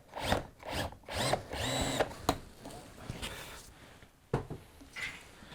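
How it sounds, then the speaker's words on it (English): A power drill whirs in several short bursts through wood using an auto-angle drill guide, rising and falling, with a few clunks between runs; close by, no talking. "I should now be able to drill directly down where I need that hole to be"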